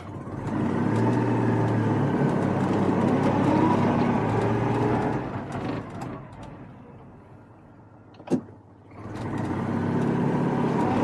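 A Citroen 2CV engine runs steadily and loud, then revs drop and dip near the end before picking back up, with a brief clunk as it shifts into second gear.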